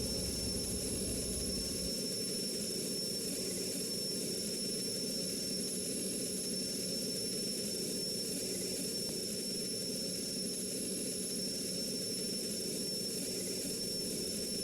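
An RAF jet fighter in the Strike Fighters 2 flight simulator climbs out after takeoff with gear and flaps up, its engine a steady, unbroken roar and whine with no talking.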